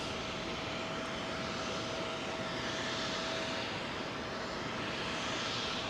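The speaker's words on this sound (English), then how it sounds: "nice to see Japan Airlines coming the long way around." A Japan Airlines airliner arriving at London Heathrow makes a continuous, fairly faint but steady jet-engine drone with a smooth broadband rush and a faint steady hum, heard alone without voices.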